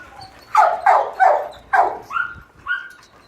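Several loud, close dog barks, about six sharp yips and woofs in an irregular series, some rising into whiny tones, with no talking.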